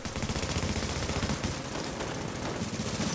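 Rapid gunfire in a video game, a dense continuous burst of shots with loud, steady, close clattering reports and no voices.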